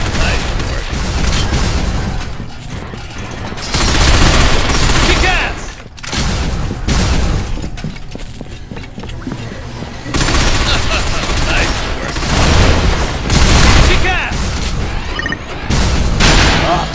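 Dense automatic gunfire and heavy fusillades in the shooter game Binary Domain, loud and sustained across the whole stretch with brief dips, layered with booming impacts and shouted character voices.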